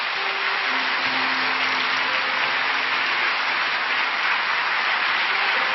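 A large congregation at Onnuri Church gives dense, even applause throughout an early-morning prayer service honoring golfer Choi Kyung-ju, loud and sustained with no voices on top.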